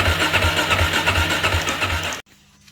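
A DRZ motorcycle engine being cranked to start, a loud, steady churning roar with a low rhythmic pulse for about two seconds, then it cuts off abruptly into near silence.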